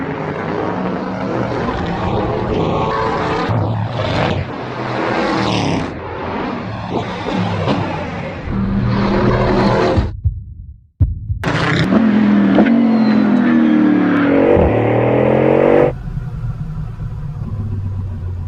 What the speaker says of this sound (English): This car accelerates like nothing else I've ever experienced